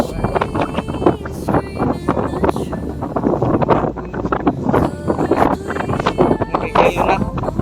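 Wind buffeting a microphone outdoors on a farm, rough gusty rumbling with bursts of broadband noise rising and falling throughout, loud and close.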